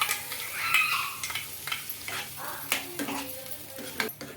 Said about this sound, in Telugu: ఇంకా మిక్సీ పట్టుకున్న చట్నీ అయితే వేస్తున్నాను